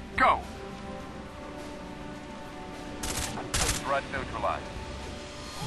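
Gunfire in the Rainbow Six 3 video game on an alpine village map, a few brief cracks and short bursts, some close and some distant, spread over quiet ambience with radio-style voices.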